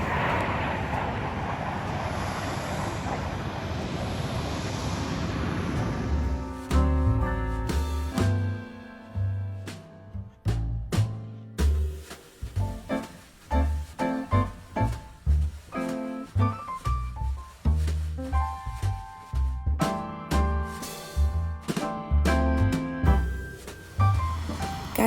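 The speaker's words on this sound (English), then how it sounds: "here they are, the Italian Aerobatic display team" Italian Frecce Tricolori aerobatic jets at the Dubai Airshow open with a loud, broad roar lasting several seconds, which then gives way to rhythmic, beat-driven music for the rest of the stretch.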